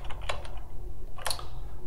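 Short bursts of keystrokes on a computer keyboard, close and crisp, in two quick clusters with a pause between, typing during a software tutorial.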